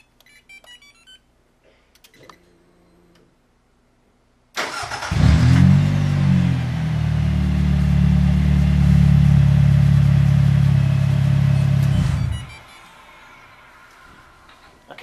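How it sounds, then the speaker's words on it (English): A car engine cranks to life after a remote start and idles steadily and loudly for several seconds before shutting off, with faint beeps before it starts and after it stops. "we're going to go ahead and remote start the vehicle to place a load on it"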